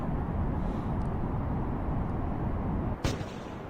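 Rocket engine roaring in the game Kerbal Space Program, a dense, continuous low rumble filling the whole stretch, loud and steady, with a brief sharp crackle near the end.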